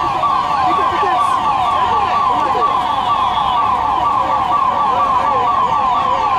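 Wailing fire brigade siren at a Mumbai Port Trust civil defence demonstration drill, a loud, steady rising-and-falling electronic tone that repeats without break over faint background noise and no speech.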